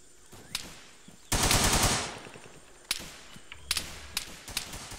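Suppressing gunfire in the video game ARMA 3 in a jungle setting: a loud sustained burst of automatic fire followed by several sharp separate shots and cracks, with no talking.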